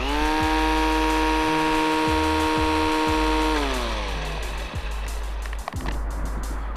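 A Milwaukee M18 Fuel cordless string trimmer runs on a low battery, giving a steady, close motor whine whose pitch drops partway through as the RPMs sag, then continues at the lower speed.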